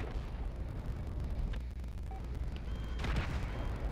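Gunfire aimed at police in GTA 5 Online: a dense barrage of blasts and booming bursts over a noisy rumble, peaking louder near the end.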